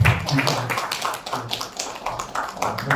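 Audience applause at a Korean church pastoral forum on respect for life, a steady patter of many hands clapping at moderate distance for about three seconds, with a faint voice underneath.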